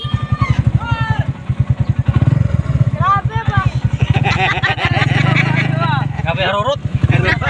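Motorcycle engine revs loudly and repeatedly close by, its pulsing drone rising and falling, with people chattering and calling out over it on a street with a new vulcanizing shop.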